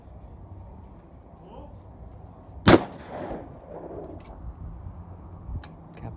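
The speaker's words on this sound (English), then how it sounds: "Grandpa's shooting, Sherry's shooting, and Rod is shooting." A single sharp gunshot cracks at an outdoor high desert shooting range, one loud report standing out from quiet background murmur, with faint distant pops afterward.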